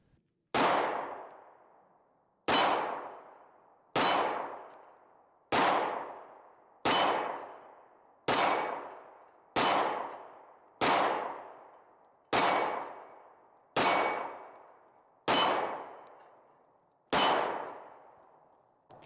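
Steel dueling tree targets struck by gunfire ring out in a steady series of about a dozen sharp metallic clangs, each decaying quickly, spaced roughly a second and a half apart, with no talking.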